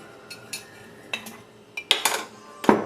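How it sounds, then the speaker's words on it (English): A spoon is lifted out of a jar during homemade laundry detergent making, giving a few light, sparse metallic clinks and taps, with a louder cluster of clinks near the end and no talking. "Let me take out the spoon."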